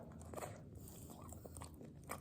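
Crisp crunchy bites into crispy German schweinshaxe pork knuckle, several close crackling crunches over about two seconds with chewing, no talk.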